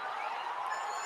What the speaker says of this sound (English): just listen to this cheering